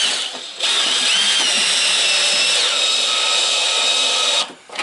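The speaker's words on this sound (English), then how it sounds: "I'm just going to take them in my drill, make again a variable speed drill, and let them thread right down into that plastic." A variable speed power drill drives screws into plastic in one sustained whine that ramps up in pitch, holds, then winds down, with short pauses before and after.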